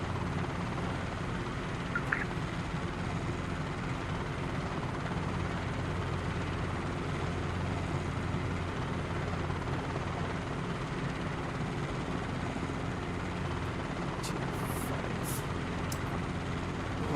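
A helicopter in flight in Microsoft Flight Simulator 2020 gives a continuous, even rotor and engine drone that holds steady throughout, with a few faint clicks and no speech.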